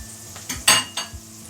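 Goto made with Quaker Oats being stirred in a pot, a utensil scraping and clinking against the metal in a few distinct strokes over a light simmering sizzle.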